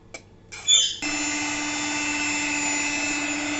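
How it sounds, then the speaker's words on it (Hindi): A blender motor starts up after a few brief clicks and whirs steadily at high speed, blending cooked apples for jam, loud and close, with no voices. "ब्लेंडर से इसे हम अच्छे से ब्लेंड कर लेंगे।"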